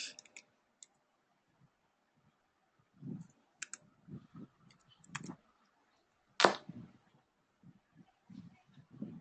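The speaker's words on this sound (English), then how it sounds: "I'm just typing it here, okay?" Typing on a computer keyboard: sparse, irregular soft key clicks and taps, quiet and close, with one sharper click partway through and no talking.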